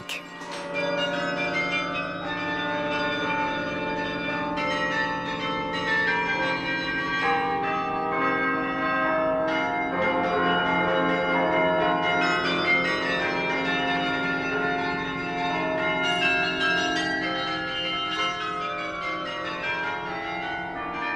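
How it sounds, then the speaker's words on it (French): Many tuned bells of a Portuguese palace carillon ring together in a continuous, layered peal, bright overlapping tones sustained throughout at a moderate distance, with no voices. "le tintement des cloches"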